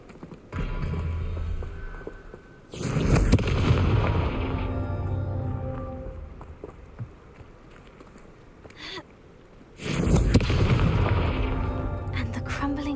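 Confringo blasting spells go off in the Hogwarts Legacy video game, two loud booming explosions with rumbling tails separated by quieter stretches of game ambience.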